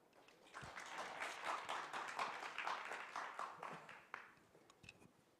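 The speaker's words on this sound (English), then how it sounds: "Let's welcome Professor John Hopcroft with a big round of applause" An auditorium audience at a Korean AI summit applauds to welcome keynote speaker Professor John Hopcroft, steady dense clapping sustained for several seconds, then thinning out toward the end.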